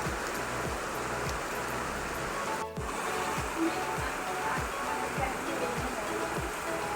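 Steady rain falling outdoors, a close, even hiss like a stream or waterfall that fills the whole stretch, with a faint voice in the background.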